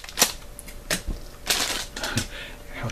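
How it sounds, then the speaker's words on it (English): Scissors snipping open a plastic bargain bag, a few short crisp cuts and rustles close by, with no talking. "Scissors, which are always handy for opening things."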